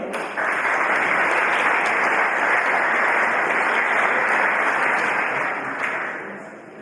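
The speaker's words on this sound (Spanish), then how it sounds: "Un aplauso para recibir por favor al doctor Fernando Cavazos García" Sustained applause from a conference audience welcoming a speaker, steady and full for several seconds before tapering slightly at the end.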